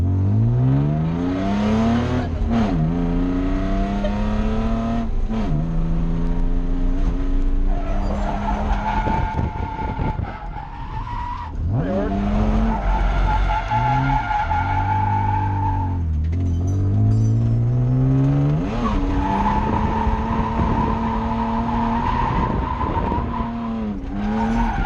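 A BMW E36 drift car slides with loud, sustained tire squeal, its engine revving and dropping through repeated surges. The screeching and revving stay close and loud almost throughout, with a brief dip in the middle.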